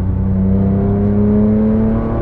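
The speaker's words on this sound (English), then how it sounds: "In the GT3, man, this car sounds good. Revs very quickly." A 2007 Porsche 911 GT3 with a rear-mounted 3.6-liter flat-six revs up hard and quickly, its loud, rising engine note climbing smoothly in one continuous pull with no talk over it.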